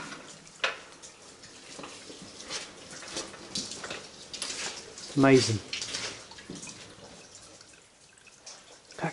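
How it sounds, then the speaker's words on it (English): Water seeps and drips in an echoing tunnel, scattered drops over a constant seep, with a person speaking briefly partway through. "That constant water coming through, you can hear that."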